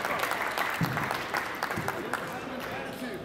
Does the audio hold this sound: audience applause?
yes